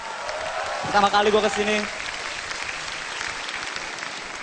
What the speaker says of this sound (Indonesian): Pertama-tama tepuk tangan dulu buat Mercu Buana